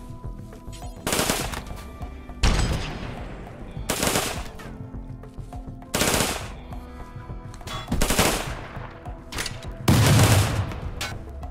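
Bursts of gunfire in the colony game RimWorld, several loud automatic volleys of sharp shots separated by short pauses, each burst trailing off into a ringing tail.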